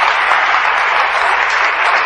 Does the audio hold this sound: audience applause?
yes